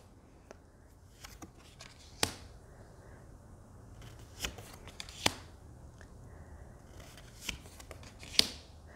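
Sparse, quiet riffling and snapping of tarot cards being shuffled, with a few sharp clicks scattered across a soft background; no talking.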